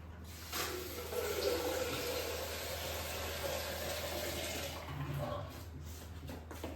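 Water runs steadily into a steamer pot while dudhi muthiya are being prepared, a continuous hissing pour that starts abruptly and carries on for several seconds before easing off near the end.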